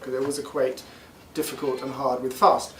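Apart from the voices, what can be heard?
No distinct noise like a dog, phone or traffic.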